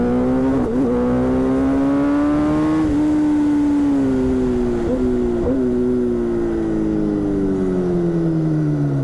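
A 212 hp Kawasaki Ninja ZX10R sport bike engine revs hard up and down through quickshifted gears, a loud, close, high-pitched wail that climbs, briefly dips at each shift, and slowly falls away over nine seconds.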